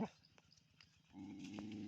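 A dog chasing after a car, low growling and snarling heard faintly at first, then swelling louder under engine noise from the passing vehicle.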